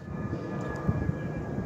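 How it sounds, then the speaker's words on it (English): Aircraft flying near Sunnybrook Hospital in Toronto, heard as a steady, moderately distant engine drone with a faint whining tone and no talk. "Planes and choppers, you guys know the deal."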